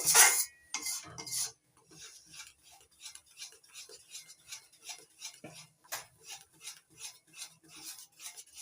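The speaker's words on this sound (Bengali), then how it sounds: "ভেজে রাখা ঠান্ডা করে নেওয়া বেসন দিতে থাকবো আর নাড়তে থাকবো" Cooled roasted gram flour is stirred into a sweet dough in a pan, heard as a steady rhythmic series of scraping, tapping spoon strokes after a louder opening clatter.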